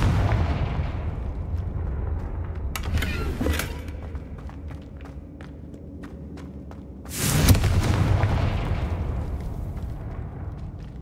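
A Confringo explosion spell cast in the Hogwarts Legacy video game bursts out loud around seven seconds in, following an earlier smaller blast and sustained rumbling game ambience, with no talking.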